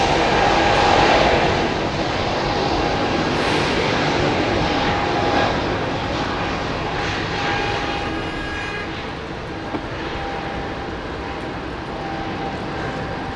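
Airliner jet engines spooling up for takeoff at Heathrow, a loud, steady broadband roar with thin whining tones, continuous and close, easing slightly over time, no voices.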